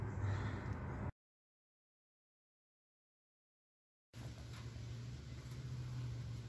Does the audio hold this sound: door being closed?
no